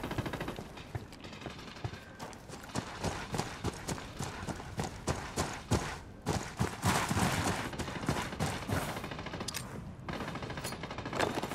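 Rapid automatic gunfire in a Ghost Recon firefight, dense bursts of sharp cracks and rattling shots continuing throughout, loud and overlapping, with occasional muffled voices beneath.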